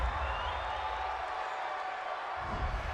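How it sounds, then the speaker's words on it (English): A stadium crowd at an NFL game between the Arizona Cardinals and Minnesota Vikings reacts to a roughing-the-passer penalty with a sustained wash of noise, a steady roar that swells again near the end. "this crowd does not like that call"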